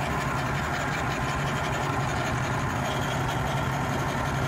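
A 2000 Grady-White 265 Express boat engine idles in gear with a steady, low, even rumble and faint mechanical hiss, moderately quiet and unchanging throughout, with no voices.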